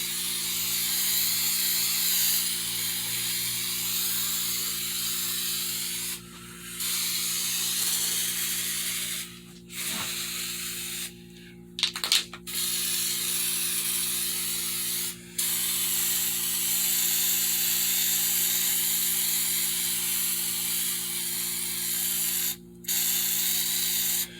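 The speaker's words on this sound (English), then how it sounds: "Spray the inside of the back with Flex Seal." Flex Seal sealant sprayed from an aerosol can into the back of a Judge Dredd costume helmet, a steady loud hiss in long bursts broken by a few short pauses and clicks of the nozzle.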